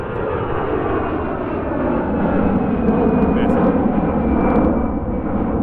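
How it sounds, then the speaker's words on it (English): A propeller airplane drones steadily overhead, a loud sustained roar that swells slightly in the middle as it passes. "there's another plane going by"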